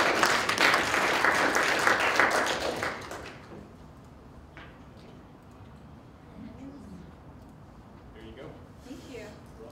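Audience applause at a 2018 conference session fills the first three seconds with loud, dense clapping, then dies down to a quiet room with faint rustles and scattered small sounds.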